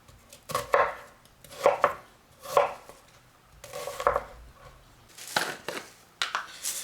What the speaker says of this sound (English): Rough chop will work.